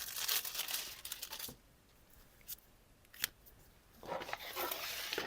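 Scissors snip through thin deli paper to cut out a quick template, giving close, crisp bursts of cutting and paper rustle separated by a quiet pause.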